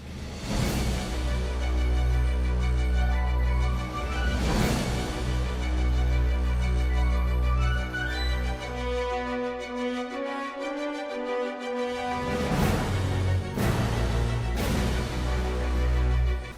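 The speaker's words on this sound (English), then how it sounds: "The shrouded ghost has a different theme music that will play" Shrouded ghost theme music from the video game Sea of Thieves plays steadily: layered sustained chords over a deep low drone, cut by a few heavy struck accents, with a quieter gliding passage in the middle.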